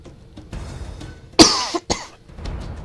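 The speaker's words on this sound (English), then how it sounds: "pardon for coughing into the mic" A single loud cough close to the microphone during Halo: Combat Evolved gameplay, followed by a shorter second burst, over quiet game sounds.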